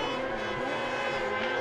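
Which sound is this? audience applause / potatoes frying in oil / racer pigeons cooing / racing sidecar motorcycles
racing sidecar motorcycles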